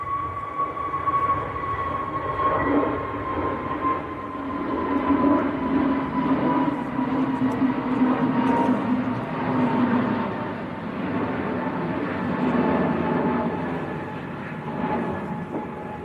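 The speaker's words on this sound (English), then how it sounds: "Here we go, KLM. A321 Neo to Amsterdam." A KLM Airbus A321neo airliner bound for Amsterdam takes off from Manchester Airport, heard as a steady, broad jet engine roar that swells and holds, distant but strong, with no talk over it.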